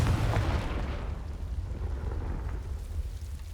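Confringo fire spell explosion in the video game Hogwarts Legacy, a deep booming blast that fades into a low rumbling tail.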